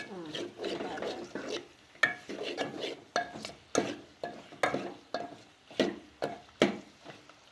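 Mutton curry with chilli powder is stirred in a pot on the stove, giving repeated rhythmic scraping and clattering strokes of a spoon against the pot over a soft simmer, with a voice talking in between.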